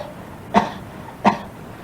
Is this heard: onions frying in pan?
no